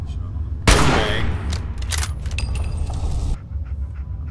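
A burst of rifle gunfire in Fallout 4 cracks out loudly, followed by a rapid clattering volley of shots and metallic rattles lasting a few seconds, close and sharp over low game ambience.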